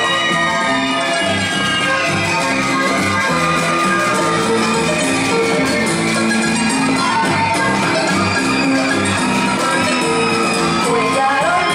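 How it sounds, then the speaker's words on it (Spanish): A crowd at the Puellaro 2024 queen pageant shouts and cheers loudly and steadily for a candidate, with whoops and yells over continuous noise from the audience. "Ahora recibimos con un fortísimo aplauso a Yadira Torres"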